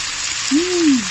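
Spicy catfish stir-fries in a hot pan with a steady, close hiss of sizzling oil. A brief rising-and-falling tonal squeak cuts through the frying noise midway.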